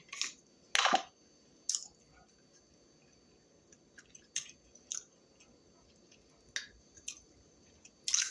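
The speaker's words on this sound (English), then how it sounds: "I'm about to eat." Close, quiet wet chewing and soft squishy bites of a saucy meal, in short separate bursts with pauses between them, and no talking.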